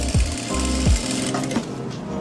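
Sewing machine stitching elastic into a palazzo pant waistband: continuous close mechanical whir with a steady fast stitching rhythm running throughout, no speech.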